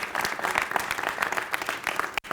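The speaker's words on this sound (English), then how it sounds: "So a big round of applause to our legislators for their work." An audience at a public funding announcement gives a steady round of applause, dense clapping from many hands that carries on throughout before cutting off sharply near the end.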